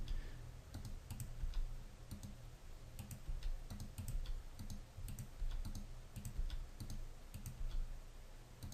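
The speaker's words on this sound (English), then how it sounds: "You don't notice how many times you're clicking until you're working on something that requires a lot of clicking" Mouse clicks and keyboard taps from a computer used for 3D box modeling of a character head in Blender, arriving in frequent irregular bursts of sharp, close clicks over a steady low hum.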